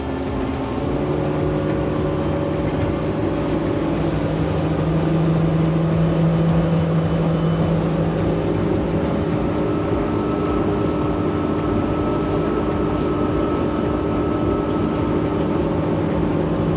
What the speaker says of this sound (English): So let's go ahead and give it some full throttle and see where we end up.